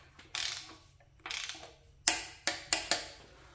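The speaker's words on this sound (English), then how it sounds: "we'll torque these to 18 foot-pounds if we can get them" Ratchet clicks from a torque wrench tightening oil pan bolts with old cork gaskets on a Cadillac 500 short block, in two longer ratcheting strokes followed by four short sharp clicks, close and clear with no talk.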